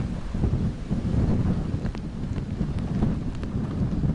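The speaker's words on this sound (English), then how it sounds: "we've been feeling some of the strongest wind gusts that we have in the last several hours" Strong gusts from Hurricane Dorian on the North Carolina coast at Wilmington buffet the microphone, making a loud, steady, roaring rumble with no letup.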